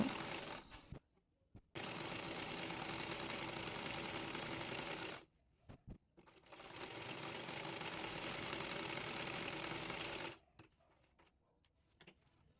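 A sewing machine stitches the side seam of a skirt palazzo in two long, steady bursts of rapid mechanical whirring and clatter, separated by short pauses, close and even in loudness.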